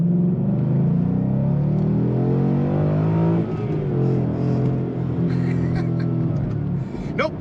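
A Ford Mustang's engine revs and rumbles up close, a loud steady drone with rising pitch surges, holding strong for several seconds before a brief dip near the end.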